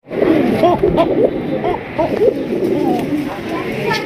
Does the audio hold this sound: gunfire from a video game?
no